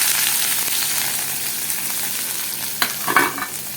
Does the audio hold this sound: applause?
no